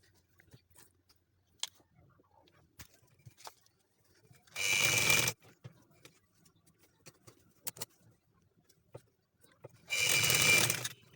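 A sewing machine stitches decorative piping onto a frock in two short, loud, dense bursts of rapid needle rattle, separated by quiet handling clicks and fabric rustles.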